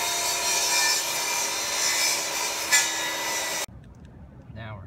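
Hand sawing through a thin wooden shim cut to fit a slot in rotted door trim, a steady close rasping stroke that runs for several seconds and then stops abruptly, followed by quiet room noise.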